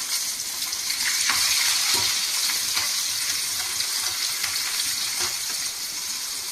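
Shallots are frying in hot oil with garlic and asafoetida for lemon rice, giving a steady, loud, close sizzle with occasional soft stirring scrapes throughout.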